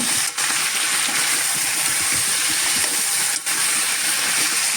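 Vegetables sizzle steadily in hot oil tempering for Udupi-style sambar, a continuous loud hiss with no pauses apart from two brief dips.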